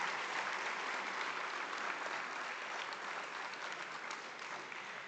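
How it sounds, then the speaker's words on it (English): Steady applause from an audience at a celebration honoring new Indian agents, a continuous even wash of clapping, fairly faint and uniform throughout. "Let's have a huge round of applause for every single new Indian agent across"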